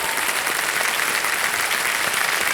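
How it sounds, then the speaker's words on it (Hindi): The studio audience of the Hindi TV quiz show Kaun Banega Crorepati, Season 14, breaks into applause for a contestant. The clapping is thick, continuous and evenly loud throughout, with no talking over it. "तालियां बज जाएं एक बार फिर से इनके लिए।"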